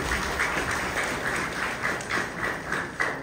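Audience clapping at a Democratic Sangha public event attended by actresses Regina Cassandra and Anasuya, a steady crowd applause of many hands at moderate distance, continuing evenly throughout.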